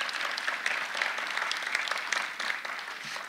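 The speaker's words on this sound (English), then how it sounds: "Let's give them a round of applause as well." An audience at a building ribbon-cutting ceremony breaks into sustained applause, a dense, even wash of many hands clapping at moderate volume from start to finish.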